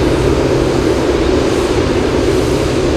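A cargo airplane takes off from runway 15 at Anchorage airport on a gusty day, giving a steady, loud low engine roar with broadband rumble that holds without a break.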